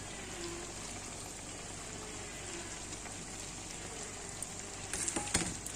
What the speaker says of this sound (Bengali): দিয়ে দিলাম টমেটো কুচি।